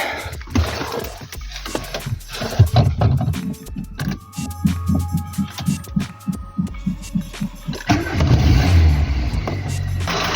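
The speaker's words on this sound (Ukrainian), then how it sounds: "На цокіт двигуна не звертайте уваги" A Volkswagen Golf Mk2 engine with worn hydraulic valve lifters idles with a steady, rapid mechanical ticking, loud and close, with busier mechanical noise at the start and end.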